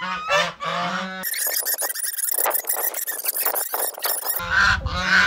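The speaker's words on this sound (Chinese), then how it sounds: "看这公鸡，全是散养的" Free-range roosters and other fowl call loudly and close by in a village yard, giving harsh honking squawks that overlap in a dense, continuous burst of cries.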